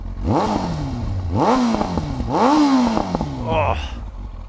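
A 1999 Kawasaki ZX-9R sport motorcycle's exhaust is blipped close by in about four sharp revs that rise and drop back to idle, with a brief exclamation from a person partway through.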